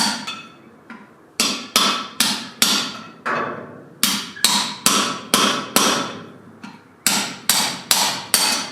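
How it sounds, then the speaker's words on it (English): A socket hammered against a trailer hub to drive out the inner bearing seal, about twenty sharp, ringing metallic taps in quick uneven clusters, loud and close with no talking. "which should actually just be a simple tap with a socket should get it"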